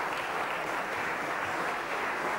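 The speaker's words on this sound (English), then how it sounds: "Applause for your jury" A large convention audience at the JOscars awards gives sustained, dense applause for the jury, a loud continuous wash of clapping with no gaps throughout.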